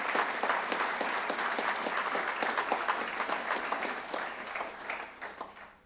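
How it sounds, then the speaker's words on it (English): Sustained applause from an audience for winners at a scholarship awards banquet, dense steady clapping that holds strong before gradually tapering off toward the end. "let's give these winners another round of applause."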